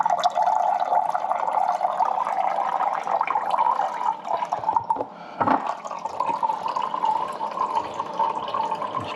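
Water drains from the drain tube of an EcoFlow Glacier portable fridge, a continuous close trickle and splash into a small glass that briefly falters midway, then resumes steadily.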